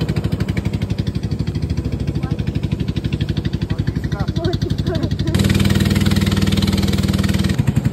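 A steady, rumbling motorboat engine chugging close by on the Maramo River, growing louder and rougher partway through, with a voice faintly audible under it.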